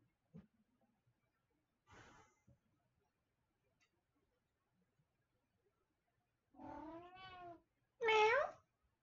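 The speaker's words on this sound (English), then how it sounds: "I got a kitty." A pet cat named Roxy, a blind indoor kitty, lets out a few meows, the last two long and drawn out, with quiet gaps and faint handling clicks between them.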